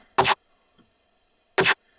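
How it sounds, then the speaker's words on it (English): Two short, punchy techno synth stabs from a Massive tech-step drum and bass preset sound about a second and a half apart, each loud and bright, with near silence between them. "Just like a nice little techie stab there."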